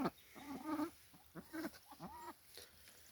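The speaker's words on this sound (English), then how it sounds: "Chickens and ducks coming out." Chickens and ducks on a small farm come out of their coop, giving faint, scattered clucks and quacks. The calls are quiet and somewhat distant, heard in short irregular bursts.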